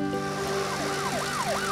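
Police car sirens wail in a cartoon about a train crash, a rising and falling electronic siren sweeping steadily over a sustained tone, moderately loud with no talk over it.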